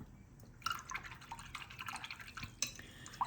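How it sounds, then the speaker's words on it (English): A paintbrush swished and rinsed in a water container after watercolour painting, soft close splashes and drips over a few seconds, quiet and with no talk. "Rinse your brush until it's nice and clean and put it aside."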